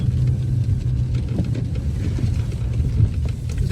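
A car drives along a rough, heavily potholed road, and its engine and tyres make a loud, continuous low rumble. Irregular thuds and jolts break into the steady drone, with no talking.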